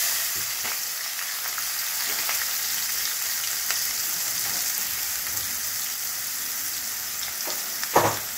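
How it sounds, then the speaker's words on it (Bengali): Onions frying in hot oil for a tomato egg curry give a steady, even sizzle throughout, with a couple of brief stirring scrapes and a louder clatter near the end. "তেল গরম হয়ে গেছে, প্রথমে পেঁয়াজ ছেড়ে দিচ্ছি।"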